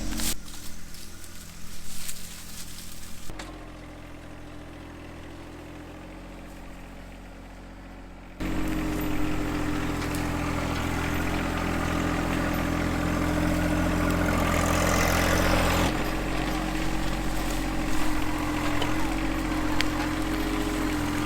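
A subcompact tractor's engine runs steadily while its grapple is worked like a rake to gather sticks, a constant mid-low idle drone that drops quieter for a few seconds and then returns louder, with people talking at times.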